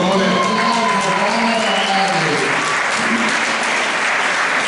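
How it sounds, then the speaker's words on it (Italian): Audience applause at a boxing award ceremony in Milan, a dense, loud round of clapping with some cheering and a voice over a loudspeaker near the start, then steady clapping throughout. "Un applauso per favore."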